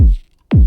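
Two hits of a heavily processed, pitched-down FL Studio dance kick sound alone, each a loud, deep booming thump with a quick downward pitch sweep, separated by a short silence.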